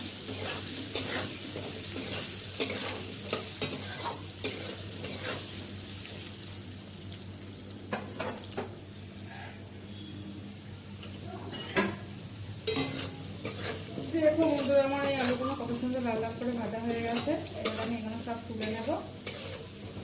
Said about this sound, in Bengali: আলুটা ভালো করে লাল লাল করে ভেজে দেবো লাল লাল করে পুরো ভেজে নিতে হবে আলুটা